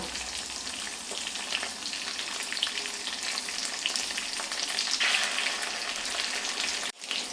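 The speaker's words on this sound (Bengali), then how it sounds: "বেশি কড়া ভাজবো না, হালকা লাল করে ভেজে তুলে নিব।" Pointed gourd (potol) slices frying in oil in a pan, a steady close hiss and crackle with a few soft stirring knocks, no talk, ending in a brief dropout near the end.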